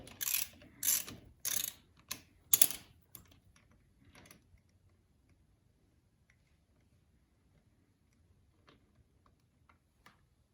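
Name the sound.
ratchet removing drain bolt on Honda CR 250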